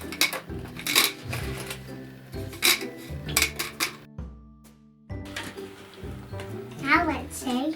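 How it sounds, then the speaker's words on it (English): A homemade shaker, dry pasta sealed in an empty Nutella tub under a balloon skin, rattles in bursts of sharp clattering shakes with brief pauses, while a voice talks between them. "The pasta sounds louder."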